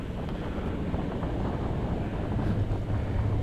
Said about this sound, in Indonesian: kita di mobil dengarannya suara mesin